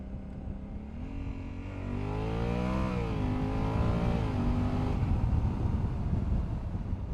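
A 2021 Honda Africa Twin DCT motorcycle accelerating in paddle-shifter mode, the engine note climbing and dropping as gears change, close and steady with wind noise building and no talking.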